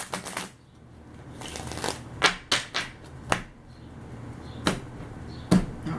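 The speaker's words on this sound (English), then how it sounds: "One more shuffle and then we're going to get started." Tarot cards being shuffled by hand at close range, a series of crisp riffling bursts and sharp slaps spread over a few seconds in a quiet room.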